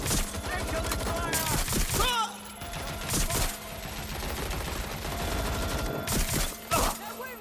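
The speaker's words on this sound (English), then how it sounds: "Incoming fire!" Rapid bursts of gunfire in the video game Watch Dogs Legion crackle in several loud volleys separated by short pauses, with in-game voices calling out between the shots.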